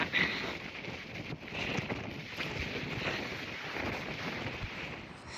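Cold wind blows steadily across a mountain hiking trail near Mt. Baden-Powell and Mt. Williamson, a continuous broadband rush with gusty swells and no pauses.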